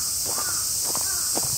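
A crow caws about three times in quick succession, somewhat distant, over a loud, steady drone of cicadas in a park in Miyoshi, Aichi, recorded on a Sony PCM-D100.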